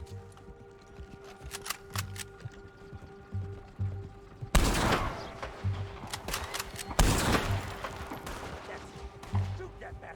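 Gunfire in Red Dead Redemption 2 crackles in scattered shots, then two loud volleys burst close by and are followed by more sporadic shots and echoes over a faint background of game noise.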